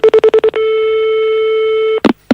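Telephone keypad tones beep in a quick series of six, then a long steady ringback tone sounds before a brief clatter as a phone call is picked up at a grocery shop.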